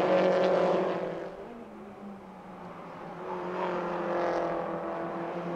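Peugeot RCZ Racing Cup race car in GTI livery driving on the Nogaro circuit, a faint, distant engine whine that fades out and then swells back as the car passes, with no commentary heard.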